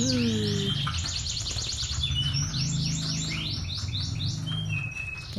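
Canaries chirp and trill in quick, overlapping bursts, a dense and lively chorus close by that continues without a break, with a low background hum underneath.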